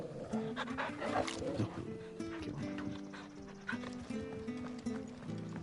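Dog sounds in the video game Final Fantasy XVI, short barks and whimpers mixed with game music and background effects, heard amid other in-game noise.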